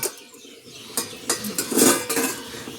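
A cooking pot is opened with a few light metallic clinks and knocks of the lid, followed by faint bubbling and clatter close by.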